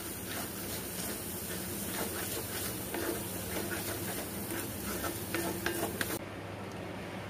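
Pumpkin halwa being stirred in a pan gives a steady scraping, sizzling texture throughout, with occasional louder clinks of the spoon against the pan.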